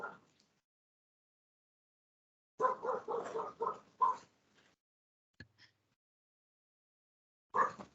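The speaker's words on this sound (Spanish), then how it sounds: "Tu perro se desespera." A dog gives short yelping, whimpering barks in a few bursts with silent gaps between them, fairly close and clear with no talk over it.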